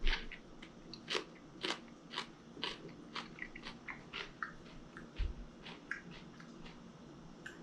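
Close, crisp crunching from chewing Russian-style sauerkraut, bite after bite in a steady rhythm, with no talking.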